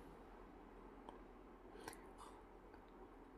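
Scissors snipping through the cloth margin while tailoring a trouser fly, a few faint close cuts over a steady background hum.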